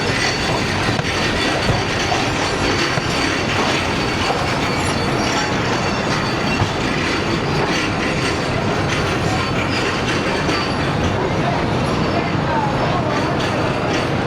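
The Sialkot Express passenger train runs on the tracks on the Sialkot to Lahore line, a loud, continuous rolling roar with rhythmic wheel clatter and rattling carriages, heard up close from on board.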